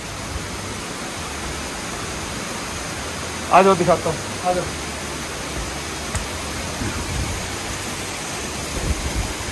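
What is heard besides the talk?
waterfall water flowing near a temple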